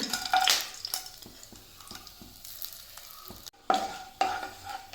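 Whole spices such as cardamom, star anise, cinnamon, cloves and bay leaf fry in a pan over medium flame for a Kerala-style stew, a soft sizzle broken by a few stirring scrapes and knocks, close by.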